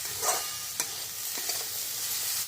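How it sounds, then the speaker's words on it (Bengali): Winter vegetables with a little spice mix frying in a pan, a steady loud sizzle broken by a few sharp scrapes of a spoon stirring them, close up with no talking. "আরেকটু ভালো করে আমি এটা ফ্রাই করে নেব"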